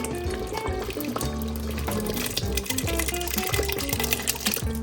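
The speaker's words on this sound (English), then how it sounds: "Now it's time to put our beans in." Four cans of beans and their liquid glugging and splashing into a pot in a continuous pour, close and fairly loud, with no talking.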